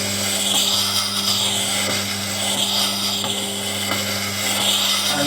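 Knife blade being ground steadily, a continuous high whirring grind with faint scraping flutters as the edge catches on bumps and dents.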